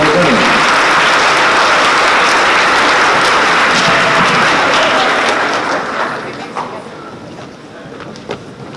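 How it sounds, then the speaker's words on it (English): A school awards assembly audience gives a loud, dense round of applause that holds steady, then fades to scattered claps after about six seconds. "All right, one more round of applause."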